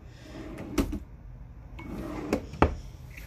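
A hotel room nightstand drawer slides open with a couple of sharp wooden knocks and rattles, close and fairly quiet in a still room.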